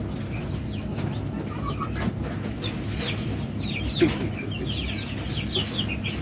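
Adult Texas broiler quail hens calling with soft clucks and chirps, several birds at moderate distance over a steady low background rumble, with one sharper call near the middle.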